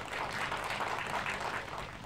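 Audience applause for an ensemble at a Korean anti-Japanese history talk concert, a steady, fairly faint wash of clapping that continues evenly throughout.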